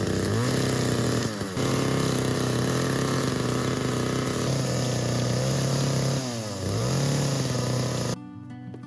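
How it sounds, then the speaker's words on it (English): A chainsaw cutting logs for a rustic ladder in a tiny off-grid cabin build, engine droning loudly with a couple of revs up and down before cutting off abruptly at the end. "Eventually, I even had to take the chainsaw to a few of these to make everything fit together correctly."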